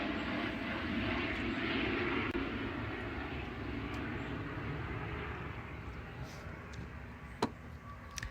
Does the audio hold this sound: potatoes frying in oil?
no